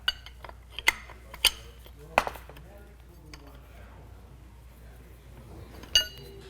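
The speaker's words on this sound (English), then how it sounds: "Now that you've got your top cap loosened, go ahead and unscrew it all the way." A motorcycle fork top cap is unscrewed, with sharp metallic clinks and ticks from tools and parts, a few distinct taps spaced out over a quiet, close background.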